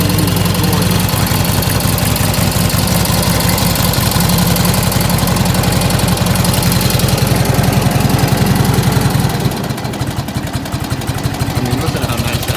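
1947 Indian Chief motorcycle, restored to museum quality, idling loud and close with a steady, lumpy engine beat that runs throughout, easing slightly near the end.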